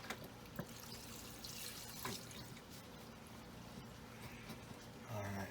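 Tap water runs steadily into a stew pot, making a continuous gushing splash, with a few sharper knocks and a brief louder surge near the end.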